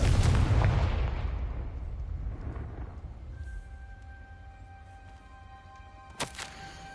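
Confringo blasting spell explosion in Hogwarts Legacy, a heavy booming blast that rolls out and decays over several seconds into a low rumble and ringing tones, followed by a faint sharp crackle near the end.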